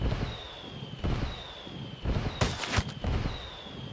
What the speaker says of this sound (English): Call the rebels for some indirect fire.